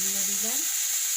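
Coriander powder sizzles in hot oil for a koi fish curry, a brief, steady hiss with a voice heard faintly over it at the start.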